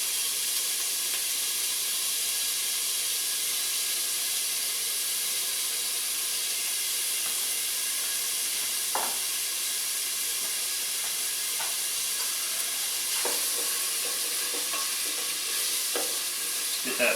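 Diced yellow onion sizzles steadily in a hot pan, a constant bright frying hiss with occasional soft scrapes and clicks of stirring throughout, no voices.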